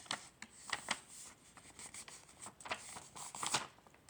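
Paper is folded by hand for an easy paper craft, giving soft crinkles, creases and rustles in a quiet room, several short scraping bursts spread across a few seconds.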